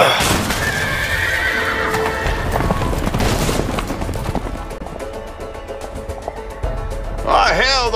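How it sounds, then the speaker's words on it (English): Horses neighing and galloping in the video game A Way Out, loud repeated whinnies over thundering hoofbeats and booming impacts, with a sharp close whinny near the end and a voice talking underneath. "Oh, hell, the horses are escaping, honey."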